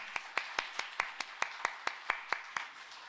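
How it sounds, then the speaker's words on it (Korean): A church congregation at a New Year's Eve worship service claps in a steady unison rhythm, about a dozen sharp, evenly spaced claps, moderately faint and with no talk over them. "우리 하나님 앞에 영광의 박수 올려드리겠습니다"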